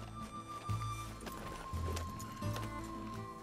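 Horse hooves clip-clop in Red Dead Redemption 2, a steady rhythmic run of faint thuds layered with game ambience and a sustained musical tone.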